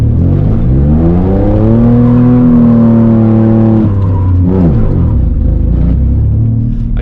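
A car engine revs hard while drifting on a rainy street, its loud droning pitch climbing and holding, then dropping sharply before revving again, close and continuous with no talk.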